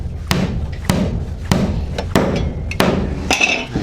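Hammer blows on nails while laying a house floor, six sharp evenly spaced strikes about two-thirds of a second apart, loud and close with a short dull ring after each.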